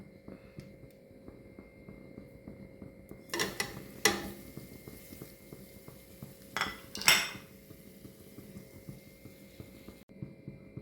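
A spoon stirring curry leaves and spice powders in a pan for chicken curry, a few distinct metallic clinks and scrapes against the pan over a quiet low hum, close and sparse.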